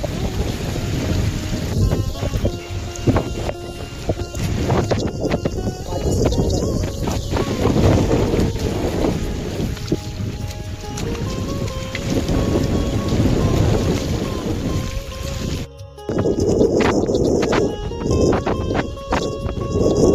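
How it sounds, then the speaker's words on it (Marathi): Steady rain pours onto dense, leafy foliage along a forest trail at Jivdhan Fort, with rumbles of thunder rolling through. The downpour is loud and continuous, with a brief dip near the end before it resumes. "आणि पानांवर पडणारा पावसाचा आवाज"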